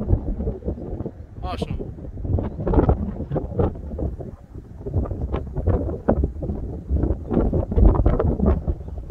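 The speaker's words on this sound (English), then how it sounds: "Wind blowing." Wind gusts buffet the microphone outdoors at Bedwell Bayfront Park, a steady rumbling rush that swells and eases through the clip, with people's voices mixed in.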